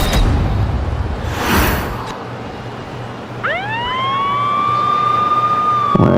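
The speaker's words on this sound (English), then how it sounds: "the sirens kick off and SVU are going to make their way out to the ring" Wrestling entrance siren for the tag team SVU, rising sweeps kicking in mid-clip and holding steady over arena noise, loud and continuous to the end.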